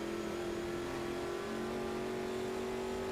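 A race car engine in a sim race at Goiania drones and accelerates steadily, its tone rising slowly over a few seconds with no voices.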